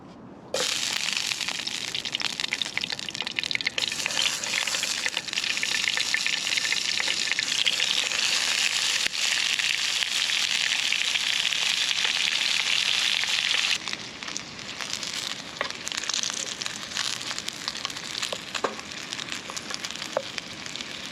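Steady sizzling and crackling of sausages frying in a pan over a twig stove outdoors, continuous and close, with occasional pops and a slight drop in intensity partway through.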